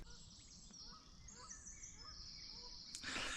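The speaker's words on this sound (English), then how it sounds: "see if I didn't hear the birds" Birds call and chirp outdoors around a castle grounds, several brief tweets and caws scattered over a quiet, faint background.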